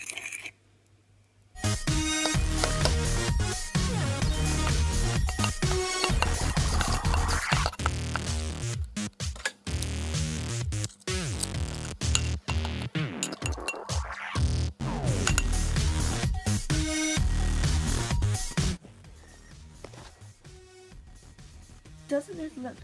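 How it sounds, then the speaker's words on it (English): A fork whisks chocolate peanut butter mug cake batter with baking powder, giving steady clinks and scrapes against the mug throughout, close and fairly loud, over a music bed. "Grab your trusty fork and start whisking."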